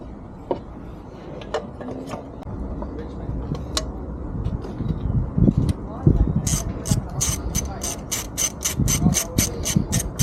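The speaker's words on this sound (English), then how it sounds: "We're gonna put the gasket first and start bolting it in." A ratchet clicks in quick bursts while bolting a Jeep thermostat housing back in with its gasket, the rapid pawl ticks growing denser toward the end, close and moderately loud with soft handling noises.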